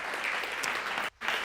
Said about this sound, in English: please, one more time for Adam and for Miranda, a big round of applause